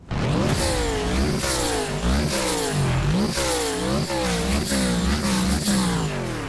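A loud racing car engine in the Roblox game Midnight Chasers revs and shifts repeatedly, pitch climbing and dropping through gears, with a custom whistling turbo sound throughout.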